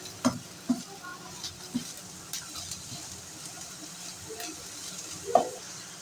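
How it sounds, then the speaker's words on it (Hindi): Finely chopped carrots frying and being stirred in a pan at home, giving a soft, faint sizzle with a few louder clicks of a utensil against the pan. "यहाँ हम 1 मिनट तक गाजर को फ्राई करेंगे।"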